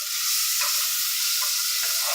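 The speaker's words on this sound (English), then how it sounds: "we're already starting to frying that off now" Onions, garlic and chili sizzle in a frying pan for tandoori chicken, a loud, close crackling hiss that runs continuously with a few stirring shifts.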